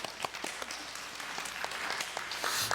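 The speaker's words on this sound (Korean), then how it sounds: "박수 한번 주세요." Applause from a church congregation during a sermon, a steady wash of clapping lasting the whole moment at moderate distance, with no voice over it.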